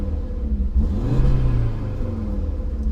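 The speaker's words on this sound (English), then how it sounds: "then I'm going to rev it up in comfort" An Audi RS3 sedan in comfort mode with the exhaust valves closed revs up, its engine note swelling and rising in a smooth, fairly close run with a low rumble underneath.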